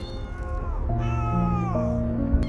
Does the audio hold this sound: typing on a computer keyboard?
no